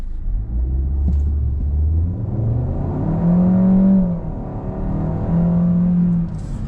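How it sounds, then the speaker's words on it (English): A 2021 Kia K5 EX sedan accelerates hard in sport mode with traction control off, engine rising through the revs in a loud, close drone, dropping briefly at gear shifts before climbing again, then easing off. "let's do an acceleration run here really quick"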